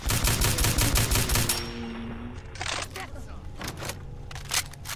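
An incendiary automatic carbine, a .30 cal hide carbine in Fallout 4, fires a loud, fast automatic burst for about a second and a half, then a few scattered shots and impacts follow against quieter game ambience.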